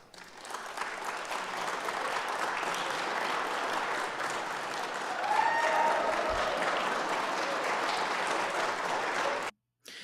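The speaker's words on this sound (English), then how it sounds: "That was the longest, loudest applause of the night." Long, loud, sustained applause from a large audience at Kentucky's State of the Commonwealth address, a continuous roar of clapping that swells midway and carries on for nearly ten seconds before cutting off abruptly.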